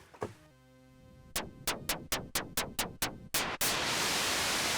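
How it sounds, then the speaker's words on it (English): A MiniMoog synthesizer's noise generator switches in as a loud, steady broadband hiss of white noise after a run of evenly spaced clicks and a sustained tone, holding alone to the end. "There is a white noise generator."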